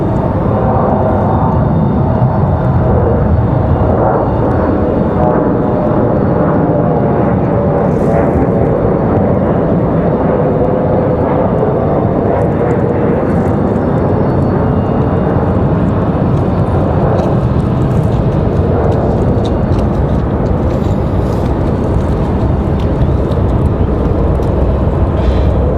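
An airliner taking off at Raleigh Durham airport roars loudly and continuously, a broad rumbling jet thunder with fluttering engine tones that stays intense for the whole stretch.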